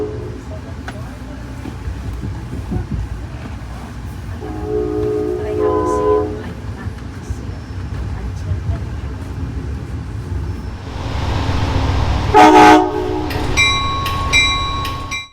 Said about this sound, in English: we did enjoy some of the K5LA action from our cab car